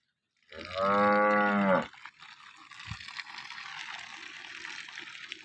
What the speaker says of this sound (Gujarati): અને બીજી છે આ ગાય છે